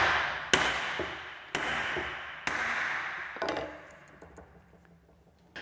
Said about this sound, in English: with a few sharp raps, seat the chuck